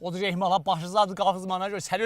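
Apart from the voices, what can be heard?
No distinct noise like a dog, phone or traffic.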